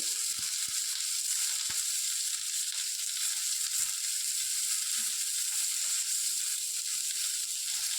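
Eggs for a simple dinner frying in a pan with salt added, a soft continuous sizzle with a few light clicks of stirring, steady and close with no talking.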